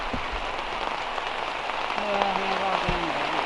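Steady rain falling on a street where a roadside grilled-chicken vendor works, a constant hiss throughout, with a brief low tone rising near the end.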